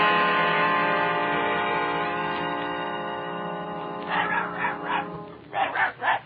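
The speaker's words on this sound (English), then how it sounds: "Look, it's Dorothy's dog." Dorothy's dog in a Wizard of Oz radio drama barks in a quick run of yips near the end, rising over a sustained orchestral music bed.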